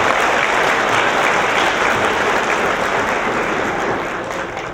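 Audience applauding at a high school academic awards ceremony, a dense, loud, continuous burst of clapping from a large crowd that softens slightly near the end.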